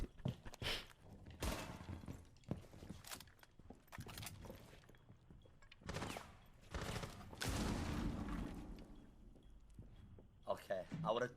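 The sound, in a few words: gunfire in a first-person shooter video game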